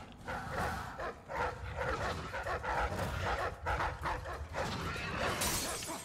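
Dogs barking in the video game Dishonored 2, a run of rough, repeated barks and yelps close by, with a bright glassy crash near the end.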